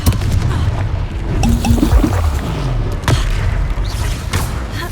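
Confringo blasting spell in Hogwarts Legacy: loud booming explosions with thudding impacts and crackling bursts, one big blast near the start and another around the middle, over dense battle noise.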